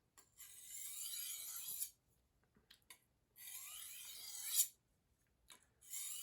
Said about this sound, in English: Just gonna make some real light passes.